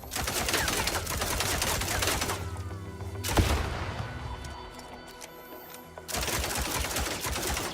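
Video game gunfire in Synthetic Man from a weapon with unlimited ammo: a rapid, sustained burst of shots, one sharp loud bang, a quieter lull, then another long stream of rapid fire.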